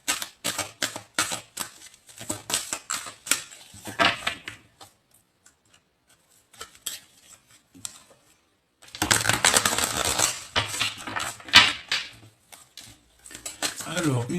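Tarot cards being shuffled by hand in close, crisp bursts of rapid flicking and slapping, separated by a quiet pause before a denser stretch of shuffling.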